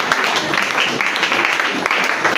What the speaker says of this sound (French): Acclamez fortement.